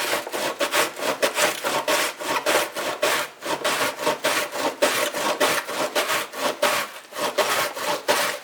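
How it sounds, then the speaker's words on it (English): Onion is rubbed over a larger kitchen grater in a fast, steady rhythm of rasping strokes, close and loud, with no talking. "So I'm gonna use this. It's a little bit bigger grater,"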